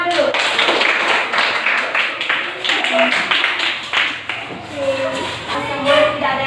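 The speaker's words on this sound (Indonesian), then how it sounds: "ya tepuk tangan dulu" A small classroom group claps hands in quick, uneven bursts of sharp nearby slaps, mixed with voices talking over and between the claps.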